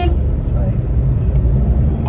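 Car horns honk on a busy road, one toot followed by another from a vehicle behind, amid a steady rumble of traffic and engines close by.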